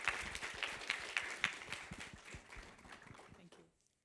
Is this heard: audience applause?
yes